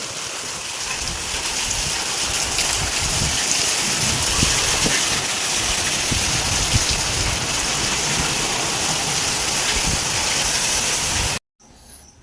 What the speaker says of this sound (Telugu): నిన్న మధ్యాహ్నం నుంచి పడతానే ఉంది వర్షం